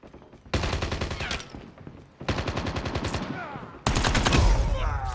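Rapid automatic gunfire from Call of Duty Mobile played on a Redmi Note 8 Pro phone, three loud sustained bursts of rattling shots separated by brief pauses.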